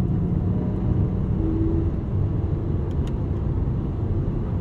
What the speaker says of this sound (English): let's take the Aventador LP780 Ultimae through a corner